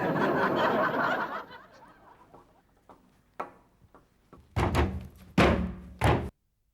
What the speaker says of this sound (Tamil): யாரோ கதவை தட்டிக்கிட்டே இருக்காங்க.